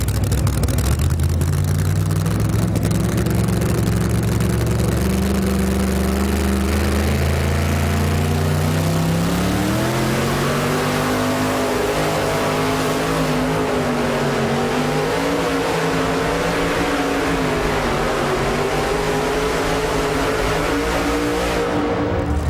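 A Chevy pulling truck's engine roars loudly down a dirt pulling track at a 2007 tractor and truck pull in Goshen, Indiana, rising in pitch and holding a sustained, rough high-revving drone throughout.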